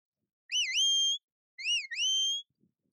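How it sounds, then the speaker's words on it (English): Two crisp, high sheepdog command whistles, each a warbling rise-and-fall note followed by a steady tone, sounded in a quiet setting with a short gap between them. "The most common whistles used are to the right and to the left."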